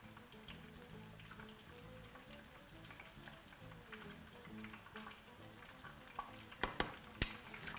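Tofu pieces fry at medium heat in a pot and get shifted around with tongs, a faint steady sizzle near at hand with a few sharp clicks of metal toward the end, no voices.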